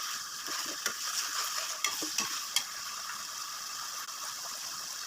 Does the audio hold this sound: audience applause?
no